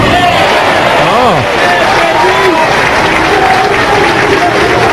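Bowling crowd at a 1997 pro tournament semifinal bursting into loud applause and cheers after a strike, steady dense clapping with a few whoops rising above.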